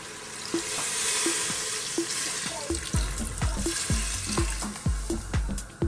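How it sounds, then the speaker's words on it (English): Water poured into a pot of browned lamb for a Greek stew sets off loud hissing and crackling sizzles, with bursts of popping bubbling and spatter as the liquid hits the hot meat. "Now I'm just gonna add in some water."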